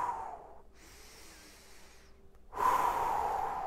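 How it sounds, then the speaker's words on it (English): Steady nasal inhale followed by a stronger whooshing exhale through the mouth during a home workout, each breath close and clear with a short pause between, and no talking. "In through the nose, out through the mouth."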